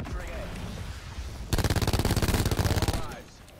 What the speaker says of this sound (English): Somebody just shot back here.